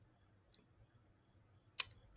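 A computer mouse gives one faint, sharp click while a classroom online page is navigated. It comes alone against quiet background hum, with a tiny tick just before it.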